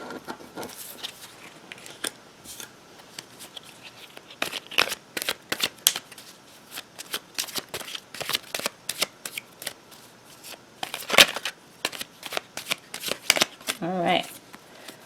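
Tarot cards shuffled by hand on a table, a close run of crisp riffling bursts and soft slaps repeating over and over, with a brief murmur of voice near the end.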